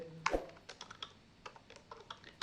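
Typing on a computer keyboard while entering text into MS Word, a quiet, close run of uneven key clicks with one sharper strike near the start and irregular taps throughout.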